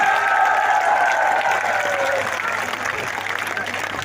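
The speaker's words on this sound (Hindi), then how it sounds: "यहाँ मौजूद एक एक आदमी हाथ उठा करके ताली बजा के मुझे समर्थन दे" Dense, steady clapping from a large crowd at a political rally in India, loud and sustained throughout, with a tonal voice or whistle sliding over the applause early on.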